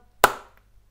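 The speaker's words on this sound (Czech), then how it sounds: "teď jsem tlesknul, to byl zvuk" One sharp hand clap sounds close and alone in a quiet room, a single crisp smack with a short fading tail.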